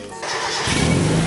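A slammed Mazda Miata's engine cranks briefly and then catches, rising into a loud, close, rough idle.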